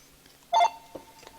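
A short electronic tone burst from a telephone, followed by a couple of fainter chirps, heard close in an otherwise quiet room.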